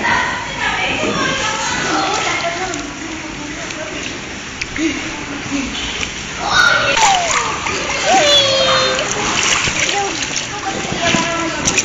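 A child swims and kicks in water, with steady splashing and sloshing close by throughout, a voice calling out over it and louder bursts of splashing toward the end.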